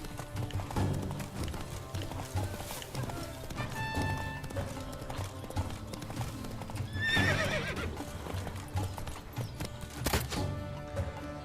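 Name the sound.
horse galloping and neighing in video game The Witcher 3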